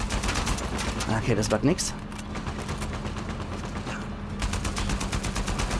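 Rapid bursts of gunfire from the video game Uncharted 4, repeating in fast volleys at the start and again near the end, with someone talking over the shooting in between.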